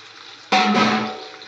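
Water poured into a pan of fish curry, an abrupt loud rushing splash starting midway and holding steady, close by, with no talk.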